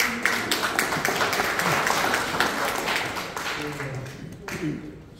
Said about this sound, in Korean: 여러분, 한 박수 주시죠.